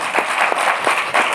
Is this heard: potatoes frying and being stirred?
no